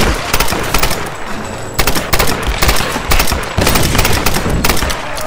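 Loud, rapid bursts of automatic gunfire from the Tomb Raider video game, several sustained volleys with brief gaps between them.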